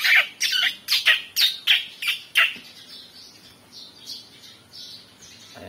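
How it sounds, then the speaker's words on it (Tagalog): Birds perched on branches in Romblon give a rapid series of about eight loud, sharp squawking calls, then softer scattered chirps carry on as the burst fades. "Ayan guys, yung mga ibon sa sanga."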